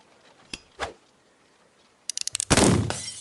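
Gunfire in a western drama video game: a couple of sharp, isolated cracks, then a quick run of rapid shots ending in a loud blast with a rolling tail, with no voices.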